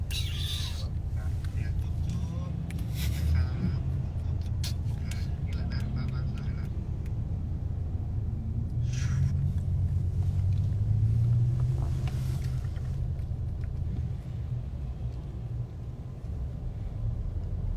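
A car being driven gives off a continuous low engine and road rumble throughout, steady and fairly close, with occasional brighter clatters and faint voices.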